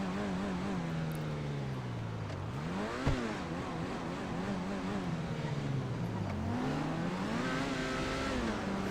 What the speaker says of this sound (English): And this is one of the slowest supercars in the game, I think.